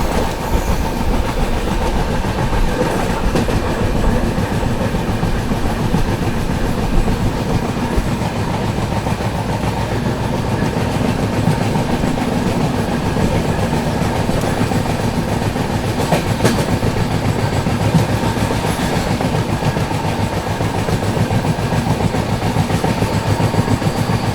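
A long-distance AC superfast express train rolls steadily around a curve at Barsoi in heavy monsoon rain, a continuous close rumble of wheels with clickety-clack from the rail joints and no voices.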